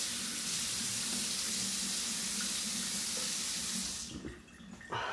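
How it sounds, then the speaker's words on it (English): A steady stream of running water rinses the filter of a small pocket gold sluice, a loud continuous splashing wash that cuts off abruptly near the end, followed by a few faint handling knocks. "So I'm going to really quickly just filter out, rinse the filter here."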